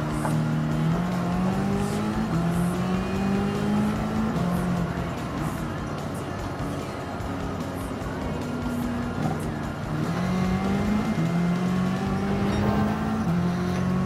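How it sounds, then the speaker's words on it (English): A racing truck in a video game roars steadily close by, its engine note climbing and dropping through gear changes with tire noise underneath, continuous and loud throughout. "This was a relatively easy race in my Let's Go Brandon Mobile in the Trump truck"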